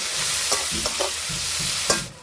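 Dry red chillies, bay leaf and chopped onions sizzle in the oil left from frying katla fish in a kadai. A close, steady hiss runs throughout, broken by a few sharp stirring scrapes.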